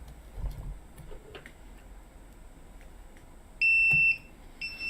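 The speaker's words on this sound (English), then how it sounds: "I use the same program to rewire my circuit for a buzzer." An electronic buzzer alarm sounds from a rewired circuit, giving a short series of shrill, steady electronic tones over faint background noise in a room.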